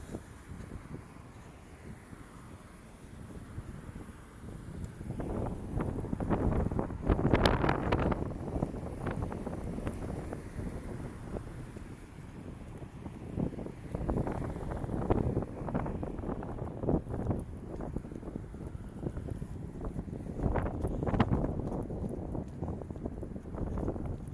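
Wind buffets the camera microphone during a windy sunset walk along a city street, a steady low rumble with gusty swells that peak and ease throughout, no talking heard.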